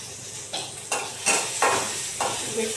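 Garlic and chili fry in a pan with a steady sizzle, while several sharp stirring scrapes and clinks of a utensil against the pan come in uneven bursts.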